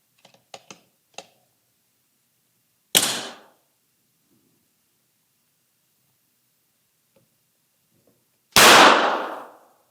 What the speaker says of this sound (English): We were able to get the striker to fall without the trigger even being manipulated at all.